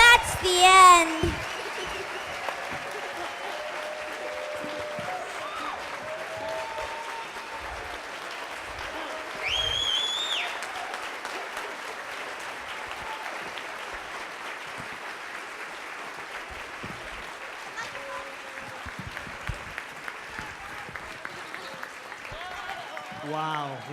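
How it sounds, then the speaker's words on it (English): At a foundation luncheon, an audience applauds a student performance, with scattered, fairly soft clapping that swells at moments and continues beneath a speaker's voice. "Let's give them one more round of applause."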